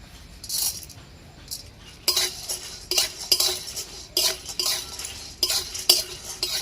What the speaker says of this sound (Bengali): এবারে দিয়ে দেবো গোলমরিচ আর সাহামরিচ।